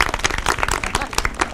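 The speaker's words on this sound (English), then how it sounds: "We give him a round of applause" Audience applause for a lieutenant governor at an elementary school beautification day, dense close hand clapping from a crowd, lively and continuous throughout.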